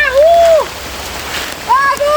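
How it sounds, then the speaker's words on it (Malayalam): Heavy rain pours steadily during river fishing in Kerala, a dense close hiss broken by a few sharp whistling chirps near the start and end, with no voices. "നല്ല മഴ കേട്ടോ."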